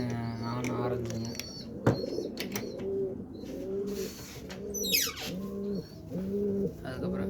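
Karna pigeons coo near the microphone in repeated soft rolling phrases, with a few chirps, a sharp knock and a brief flutter mixed in between the calls.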